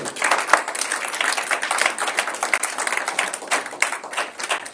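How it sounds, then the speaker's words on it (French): A church congregation claps at a Sunday service, with dense, steady applause from many hands filling the room, close and sustained without a break. "Est-ce qu'on peut applaudir pour cette parole?"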